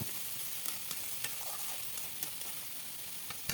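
Thinly sliced potatoes being stirred in a pan while cooking noodles, a soft continuous sizzle with quiet scraping spoon strokes at a regular pace, close and fairly faint.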